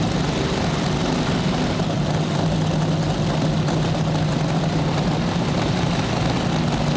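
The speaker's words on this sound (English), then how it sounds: "It is a twin-engine Hemi, rear engine nostalgia fueler." A twin-engine Hemi, rear-engine nostalgia top fuel dragster at a side-by-side drag race gives off a loud, steady, close engine roar that holds without a break for the whole stretch.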